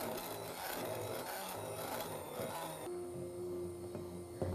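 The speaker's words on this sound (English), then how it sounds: "That's why the hand immersion mixer is a bit easier than a whisk to use." A hand immersion mixer whirs through thick vegan dulce de leche syrup, a steady close-up grinding, rasping blend that shifts in tone near the end.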